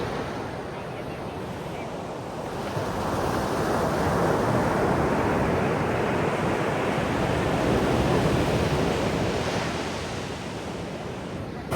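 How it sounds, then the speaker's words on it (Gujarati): Sea waves break on the shore at a coastal fishing spot, a broad continuous roar that swells in the middle and eases off toward the end, with wind rushing over the microphone. "કાંઠે મોજા છે"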